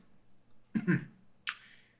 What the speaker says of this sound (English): will say, clearing his throat